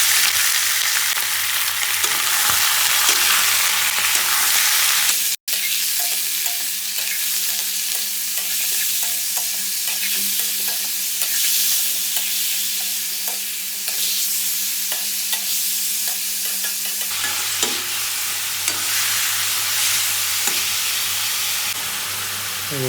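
Pork sizzles loudly in hot oil with cumin seeds and two green chillies, a continuous close frying hiss with occasional stirring scrapes and a sharp knock early on.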